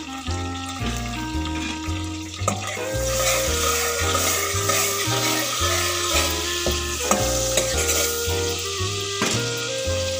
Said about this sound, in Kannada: ಇದಕ್ಕೆ ಬಟರ್ ಅಲ್ಲಿ ಫ್ರೈ ಮಾಡ್ಕೋಬೇಕು